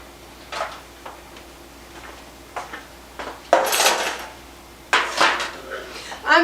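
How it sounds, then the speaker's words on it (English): Metal pans clatter and clank as they are handled, several sharp knocks and scrapes at irregular intervals, close by. "let me get my pans"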